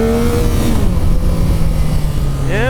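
A Yamaha MT-09 motorcycle engine revving nearby, a loud continuous drone whose pitch sinks and then climbs again at the end.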